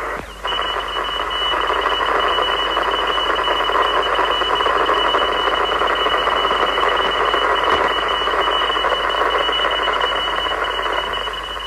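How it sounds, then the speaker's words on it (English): Radio signal from the Russian Cosmos 1513 navigation satellite picked up on an AOR 2001 scanning receiver: a steady, dense hiss-like tone with a faint repeating pulse, loud and continuous throughout with no speech. "We should be able to listen to Cosmos 1513. Right, tune in to Cosmos 1513."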